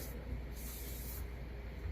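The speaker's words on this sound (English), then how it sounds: "I'm going to sand up the outside" Sandpaper against the outside of a wooden bowl spinning on a lathe: a faint, steady hiss with a low motor rumble beneath, unbroken and close.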